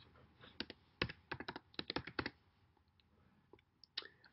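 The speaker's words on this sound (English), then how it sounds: "type Extract in the search bar." Keys tapped on a computer keyboard in short bursts of clicks, fairly close and quiet, with a clustered run of strokes followed by a few scattered taps.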